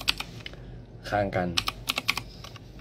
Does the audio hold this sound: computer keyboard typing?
yes